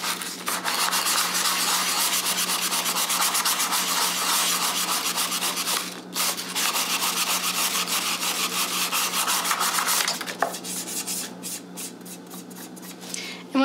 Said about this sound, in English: this is a very fine grit sandpaper, and sort of smooth it out